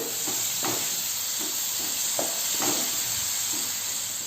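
Tomato puree sizzles and hisses steadily in a hot pan for a spicy chana gravy, with soft scraping stirs at irregular intervals and no talking.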